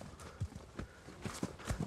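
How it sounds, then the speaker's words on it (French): A draft horse trots on firm ground in draft-horse training, giving a steady clip-clop of hoofbeats, close and moderately loud, with no voices. "Traviata, au trot."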